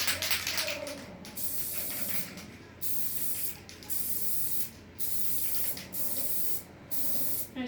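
Aerosol spray glue, a cheap Gorilla Glue or Elmer's type, hissing in about six bursts over a box, each steady blast separated by a short pause and heard close up with no talking.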